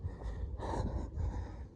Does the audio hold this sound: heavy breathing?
yes